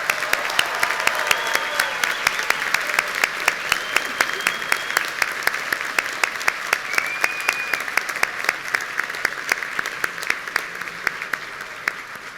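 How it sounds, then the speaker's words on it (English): A large crowd applauds at a university bachelor's degree graduation ceremony in biomedical sciences and neuroscience. The clapping is broad and sustained, with sharp individual claps close by and a few whistles rising over it. "Okay, applause."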